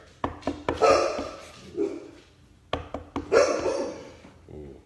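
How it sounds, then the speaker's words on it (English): A dog barks in two quick bursts of sharp, close barks separated by a pause, loud against an otherwise quiet room. "No barking."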